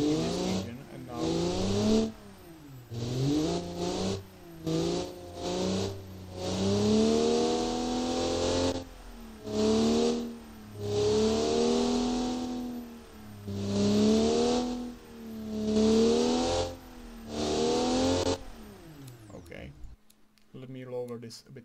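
Turbocharged car engine in the BeamNG.drive driving game revving hard again and again, each burst climbing in pitch before dropping back, then cutting out near the end.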